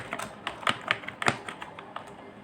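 Python NumPy code is typed on a computer keyboard in short, close, crisp key taps with uneven spacing, alone and without any talk.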